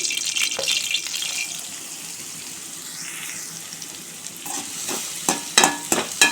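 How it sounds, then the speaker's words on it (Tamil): Mustard seeds, urad dal, dried chillies, curry leaves and small shallots sauté in hot oil, a close crackling sizzle broken by sharp scraping stir strokes, louder and busier near the end. "கடுகு, உளுந்தம்பருப்பு, காஞ்ச மிளகா, கருவேப்பிலை, சின்ன வெங்காயம் எல்லாத்தையும் போட்டு நல்லா வதக்கிறோம்."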